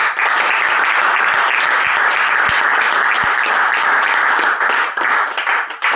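A church congregation breaks into loud, dense applause that holds steady for several seconds, many hands clapping together close and full, easing slightly near the end.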